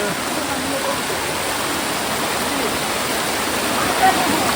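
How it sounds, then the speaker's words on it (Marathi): Water pouring down a small scenic waterfall in rainy weather, a dense, steady rushing flow filling the whole clip at close range with no pauses. "झुळझुळ वाहते पाणी"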